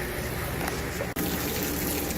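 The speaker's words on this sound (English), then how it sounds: "That is the synthetic water pressure I get out of the hose bib that they dedicate up on the rooftop" Water gushes steadily from a rooftop hose bib with weak pressure, a constant close rushing hiss with one brief break partway through.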